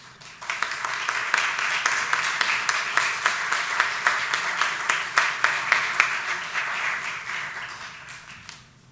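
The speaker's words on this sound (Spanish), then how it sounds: "Un aplauso." An audience at the Common Action Forum 2019 in Mexico bursts into sustained applause that swells in quickly, holds steady with a lightly rhythmic pulse for several seconds, then fades out.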